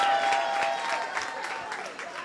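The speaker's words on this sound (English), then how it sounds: "A round of applause." Applause from an audience at a women's network launch event, a brief burst of clapping that fades gradually, with some voices mixed in.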